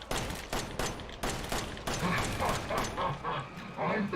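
Rapid gunfire in the video game Resident Evil 7, a dense run of sharp shots with brief gaps, loud and close, with game noise underneath.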